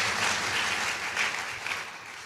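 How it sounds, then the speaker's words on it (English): A round of applause during an inaugural university lecture, a dense steady patter of clapping from the audience that fades slightly toward the end. "applause"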